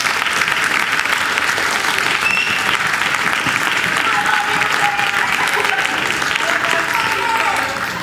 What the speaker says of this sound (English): another round of applause for our award winners.